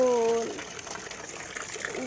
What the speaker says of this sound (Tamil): நல்லா தண்ணி சவுண்டு சூப்பராக இருக்குல்ல.